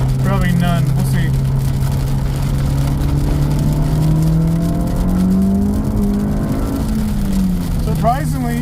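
Honda Civic Type R FL5 accelerating hard in the rain, its engine note climbing steadily and then dropping at an upshift before rising again. Loud cabin drone with wet road hiss underneath, and brief voice fragments at the start and end.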